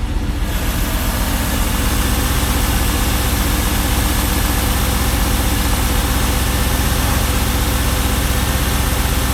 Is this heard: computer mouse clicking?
no